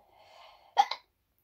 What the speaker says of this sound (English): I'm gonna hiccup.